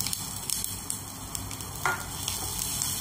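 Grated fresh coconut sautés in a pan with a steady, bright sizzle and occasional scraping stirs, close and moderately loud with no voices.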